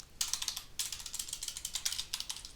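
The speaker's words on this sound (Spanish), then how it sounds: "ahí suena mi teclado, tengo que cambiar de teclado, suena mucho" A loud computer keyboard clacks under rapid typing while building an Excel dashboard report. The keystrokes come close and crisp in quick uneven bursts with short pauses, and no voices are heard.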